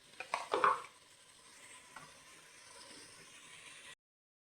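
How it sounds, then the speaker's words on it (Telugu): Ginger garlic paste fries in a pan on low flame for a mutton egg curry, giving a soft steady sizzle with a few louder stirring scrapes near the start, then it cuts to silence before a brief final click. "ఒక స్పూన్నర అల్లం వెల్లుల్లి పేస్ట్ వేసుకుందాం. ఇది పచ్చివాసన పోయే వరకు వేయించుకుందాం."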